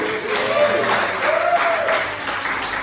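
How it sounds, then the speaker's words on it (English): Audience applause for a prize winner at a World Book Day show, a moderate even wash of clapping that holds steady and is heard on its own. "give Katie a round of applause"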